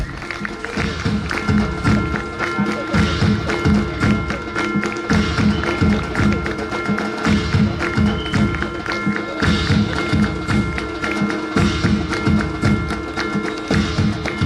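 An audience applauding to welcome psychologist Mrs. Sarita Pagare at a memorial-day gathering: loud, continuous clapping that carries on steadily throughout, with no voice over it.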